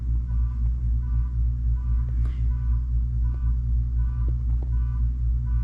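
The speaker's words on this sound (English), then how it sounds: "shut your freaking car alarm off" A car alarm beeps in a steady, evenly spaced pattern over a loud low rumbling hum, repeating throughout at moderate distance.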